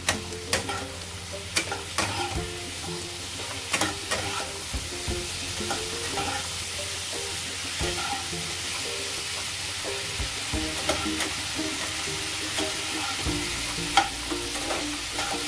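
Tomato and spices, including Kashmiri chilli powder, fry in a pan for a bhetki fish curry, a steady close sizzle broken by repeated clinks and scrapes of a stirring spoon.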